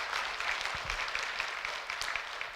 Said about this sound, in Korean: 한번 남자들에게 큰 격려의 박수 해주십시오.